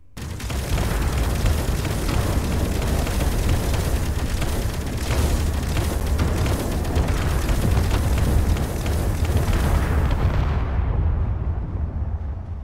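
Continuous, dense barrage of explosions and booming blasts from a Space Engineers battle, loud and sustained for most of the span with no talk, then cutting away near the end.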